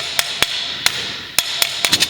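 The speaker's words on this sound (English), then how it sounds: "use a bigger hammer" A heavy hammer strikes a stiff metal part in a series of sharp, loud metallic blows, irregularly spaced, some in quick pairs near the end, with no talk.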